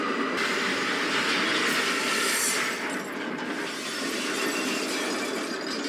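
A speeding train broadsides a car in a TV show. The train's rushing rumble is loud and fairly steady, with a harsh crash-like burst in the middle and no speech.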